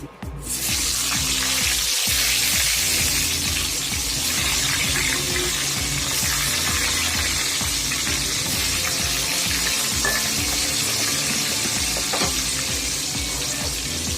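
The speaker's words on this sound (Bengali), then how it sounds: "বাকি পটলগুলো একইভাবে ভেজে নিচ্ছি" Whole pointed gourds (potol) fry in hot oil, giving a loud, steady, close sizzling hiss that continues without a break.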